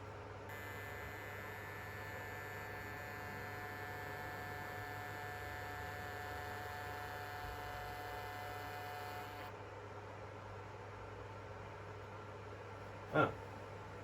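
A Hornby Class 92 model locomotive in Caledonian Sleeper livery gives a faint, steady electric motor hum with a buzzing tonal whine that cuts out abruptly partway through, followed by quiet and one brief click.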